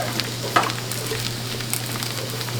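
A dark roux for Louisiana seafood gumbo sizzles steadily in a pot while being stirred, a close, continuous frying hiss broken by faint scrapes and small clicks of the spoon.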